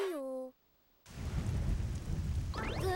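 Rain and thunder in a cartoon storm scene, a sudden loud burst of heavy rain with low rumbling thunder after a brief musical tone and a short silence, a rising tone returning near the end.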